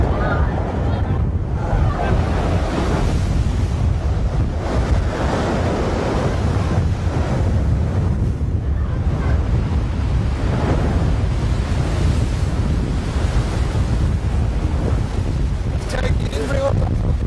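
Rough river water churns continuously under strong gusting wind during a hurricane, a dense, steady roar with buffeting wind noise on the microphone.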